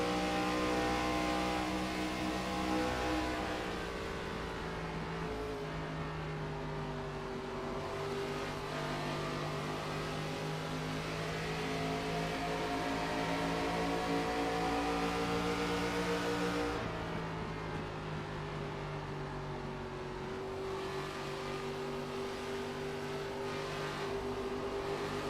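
An ARCA Series stock car roars around Pocono Raceway, its engine droning loud and continuous with rising and shifting pitch as it accelerates, the tone dipping briefly then climbing again.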